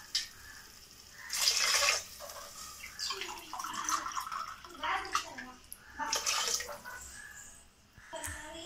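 Water pours steadily into a pressure cooker for corn pulao, with a splashing, gurgling rush that rises and falls in bursts, a few clinks and kitchen sounds in between.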